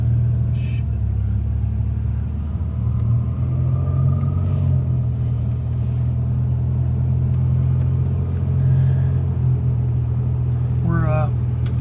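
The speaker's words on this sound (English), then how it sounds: "Car's being driven right now." Steady low engine rumble and road noise from inside a moving 1987 Buick Grand National, constant and fairly loud, with a faint squeak near the end.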